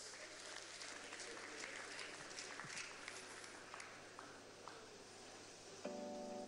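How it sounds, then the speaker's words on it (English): Audience applause at an awards event in Nigeria, a steady wash of many hands clapping throughout with some crowd noise, fairly close and continuous. "Come on, don't stop clapping."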